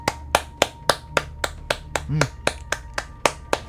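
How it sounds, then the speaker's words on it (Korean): A single person claps slowly and steadily, about fourteen sharp, evenly spaced claps ringing close and clear, with a brief murmured voice partway through. "저는 미리 박수 치겠습니다"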